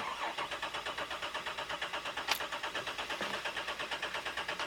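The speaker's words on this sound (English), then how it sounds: "So watch what happens when we try to start it." A Jeep Wrangler with a faulty coolant temperature sensor cranks on a cold start without firing, its starter churning in a steady, even rhythm at moderate distance throughout.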